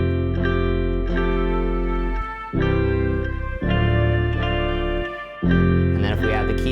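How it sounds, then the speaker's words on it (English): Sustained chords from virtual instruments ring out in a series of changes, each held note trailing into a washy reverb tail; no voices. "if we just add some reverb to each of these sounds"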